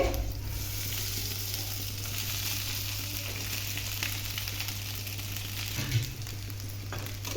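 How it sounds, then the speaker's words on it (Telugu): Rice added to a sizzling tempering with curry leaves in a pan for pachi karam rice, giving a steady close frying hiss with a brief stir near the end, no voices. "ఇప్పుడైతే రైస్ వేసుకోవాలి"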